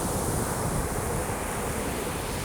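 Sea waves washing in a continuous soft, broad hiss of surf, with some wind noise and no voices.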